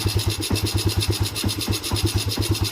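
A Honda CB125 motorcycle engine runs just after a kick start, a close, steady single-cylinder putter with even rapid pulses and no talk.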